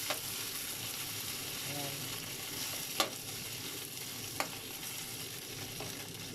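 Fish fries in a pan with a soft, steady sizzling hiss and a couple of sharp pops, fairly quiet and heard at a slight distance, while a voice briefly speaks.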